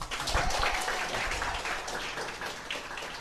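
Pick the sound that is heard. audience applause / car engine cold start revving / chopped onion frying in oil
audience applause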